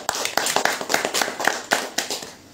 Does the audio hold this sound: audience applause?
yes